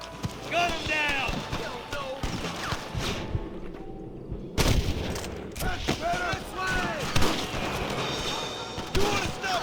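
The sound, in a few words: gunfire in the video game Red Dead Redemption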